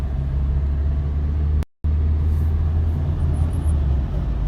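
A car pulls forward at a steady, low engine rumble during a driving lesson in second gear, with a brief dropout midway and no talk over it.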